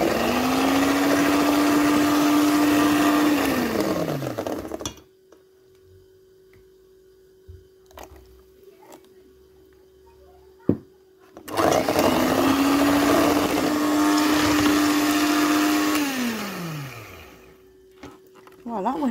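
An electric hand mixer whirs loudly as it beats cake batter, running for several seconds, winding down, then starting up again for a second loud burst after a quiet pause with a few clicks.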